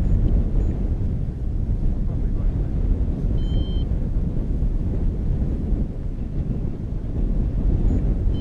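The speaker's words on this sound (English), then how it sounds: "it's quite windy." Wind rushes and buffets steadily against an outdoor microphone, a loud low roar running throughout with brief gusty swells and a faint high tone near the middle.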